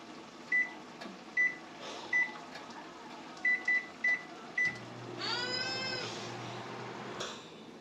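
A Galanz air fryer cooking BBQ wings at 400 degrees hums steadily at close range, punctuated by about six short electronic beeps and a swelling whine near the end, with no talking.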